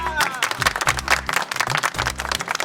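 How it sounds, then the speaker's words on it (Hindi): Rhythmic group clapping breaks out during a comedic campaign-style speech, a burst of fairly close, uneven hand claps with some voices mixed in. "तालियां!"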